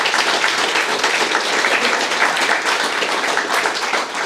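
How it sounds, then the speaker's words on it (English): A large audience at a Startup Weekend pitch night in Perth claps loudly for the event mentors, a dense, sustained roar of hands that stays even from start to finish. "So a huge round of applause to our mentors this weekend."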